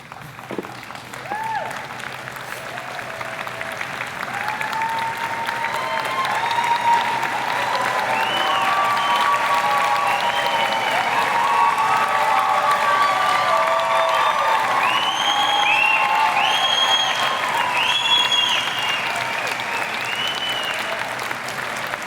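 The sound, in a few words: audience applause at graduation ceremony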